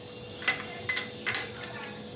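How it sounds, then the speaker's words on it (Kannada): Ice cubes drop into a glass of cold juice, making three distinct clinks spaced under a second apart, fairly faint and close, over a quiet room. "ಐಸ್ ಟ್ಯೂಬ್ ಹಾಕ್ಕೊಳ್ಳೋಣ"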